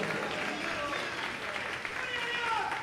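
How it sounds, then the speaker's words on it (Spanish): A church congregation claps for God during a Spanish-language evangelical service, a steady wash of many hands with voices calling out over it. "¿Cuántos pueden darle esas palmas a Dios en esta tarde?"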